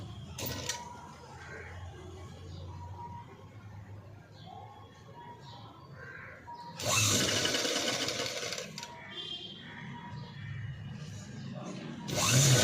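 A sewing machine stitches a sleeveless, cut-work, padded-design blouse, with a loud whirring run near the middle and another brief burst at the end, amid quieter background noise and a voice.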